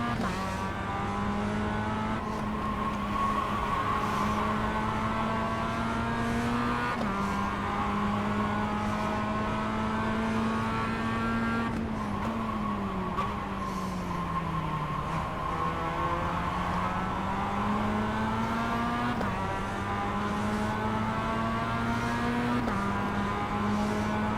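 A Mazda MX-5 race car at Tsukuba in the iRacing sim, its engine droning continuously close-up as it revs up and down through gear shifts, with pitch rising and falling throughout the lap.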